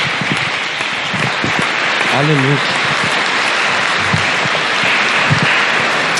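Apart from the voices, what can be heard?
church congregation applauding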